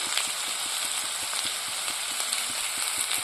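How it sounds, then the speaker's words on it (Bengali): Raw pumpkin sizzles steadily in a hot pan, a constant frying hiss with faint regular ticks underneath. "তো কুমড়োটা ভাজতে একটু সময় লাগবে কারণ কাঁচা কুমড়ো"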